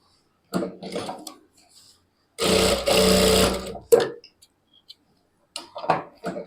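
An electric sewing machine stitching lehenga fabric runs in one loud, close burst of about a second and a half, with quieter handling clicks and rustling of cloth before and after.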